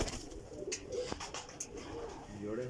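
Pigeons coo softly in a rooftop loft, low murmuring calls with a few brief flutters and clicks, while people talk nearby over a steady background hum.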